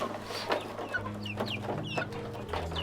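Several local chickens cluck and chatter close by, with short bird calls scattered over a steady low hum.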